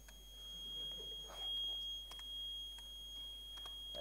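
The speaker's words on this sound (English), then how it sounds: "So I've just reinvented the fire alarm." A micro:bit board wired as an alarm gives a steady high electronic beep like a fire alarm, held almost continuously through the clip at moderate level with a few short clicks, no talking.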